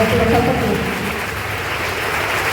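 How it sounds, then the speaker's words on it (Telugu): A congregation at Gudivada RCM Church claps loudly in praise during worship, giving a loud, continuous wash of many hands clapping together with no pause. "గట్టిగా చప్పట్లు కొడుతూ దేవుని స్తుతిద్దాం"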